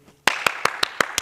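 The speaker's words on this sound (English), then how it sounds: "so we've done our clap catch" Hands clap six times in a steady rhythm during a children's ball-catching drill, each sharp, close clap following a quiet pause, with no talking.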